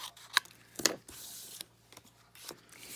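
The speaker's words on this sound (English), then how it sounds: "we're just going to trim a little bit more off of here" Scissors snip through paper card while trimming a die-cut flower piece, a few crisp close cuts spaced apart with soft rustling of the card between them.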